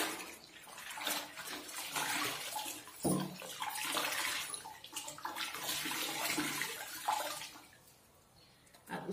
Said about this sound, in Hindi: इसमें हम इस टॉवल को डुबा देते हैं और अच्छे से निचोड़ देंगे इसको पानी को।